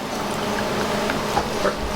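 Distilled water is poured into a container in a steady, continuous gurgling stream, close and fairly loud, with small splashes near the end.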